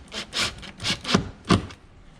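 A screw is tightened on the air filter housing of a 2021 Dodge Ram: four or five short scraping, rubbing turns in uneven rhythm, close and fairly quiet, with no speech.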